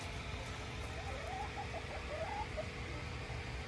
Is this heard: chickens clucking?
yes